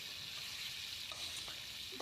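Hilsa fish frying in oil, a steady bright sizzle with occasional soft stirring scrapes, close and continuous with no talking.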